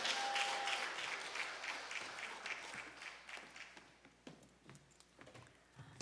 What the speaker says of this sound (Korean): 할렐루야로 하나님께 영광의 박수 올려드립니다